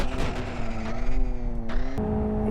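A race car engine in the Live for Speed racing game drones steadily at high revs while drifting, a strong harmonic whine that dips and shifts pitch with throttle changes, loud and continuous with no talking.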